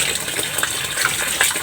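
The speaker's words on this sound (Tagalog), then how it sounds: "para yung tubig na nasa taas lalabas" Water gushes and splashes out through a hole punched in a tarpaulin fish pond, a close, continuous pouring with small bursts of spatter, no voices present.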